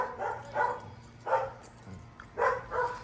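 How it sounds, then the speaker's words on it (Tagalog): Dogs barking in short bursts, a few moderately near woofs spaced irregularly over low background noise, with no talking. "May mga dogs nila."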